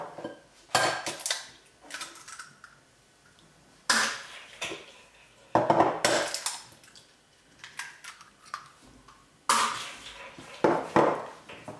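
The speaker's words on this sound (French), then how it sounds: "Et on mélange le tout." Butter, sugar, almond powder and eggs being mixed in a bowl for a rum raisin galette des rois, with clattering and scraping of a utensil in bursts separated by quieter pauses.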